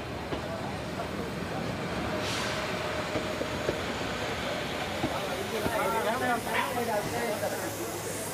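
Indian Railways train pulling into a station, a steady rolling rumble with hiss and faint wheel squeal near the end, while a voice talks over it.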